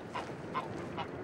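Geese honking in a waterfowl hunting marsh by the sea, three short calls spaced about evenly apart, moderately faint over a steady background hiss.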